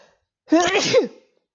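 One loud, abrupt sneeze bursts out up close, a quick voiced intake and release lasting well under a second.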